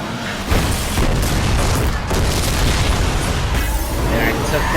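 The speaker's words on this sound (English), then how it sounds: "There, I took down the car." A car crash takedown in the racing game Burnout Revenge, with an EA Racer GT car, erupts in dense, loud booming impact noise and roaring rumble that fills the whole stretch without letup.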